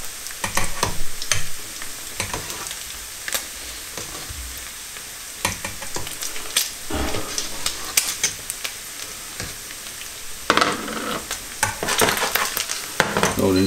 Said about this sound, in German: So, den Speck können wir auslassen.